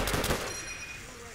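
M1 Garand rifle fire in the World at War co-op campaign, a quick cluster of loud gunshots up front followed by a fading ring and faint background game noise.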